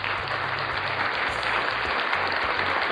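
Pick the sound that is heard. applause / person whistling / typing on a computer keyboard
applause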